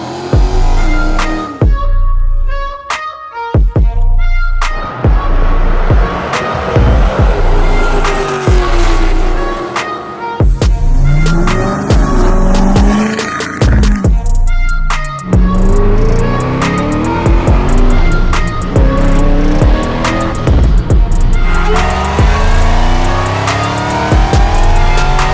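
A pickup truck's engine fitted with a BTR Truck Norris cam runs close by, revving repeatedly in sharp bursts with a choppy, lopey idle between blips, loud throughout.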